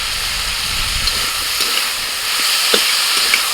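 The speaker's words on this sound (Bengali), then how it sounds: "এবার দিচ্ছি পেঁয়াজ কুচি" Chopped onion sizzling in hot oil on a lit stove, a steady close hiss of frying that continues without talking, with a few faint stirring scrapes.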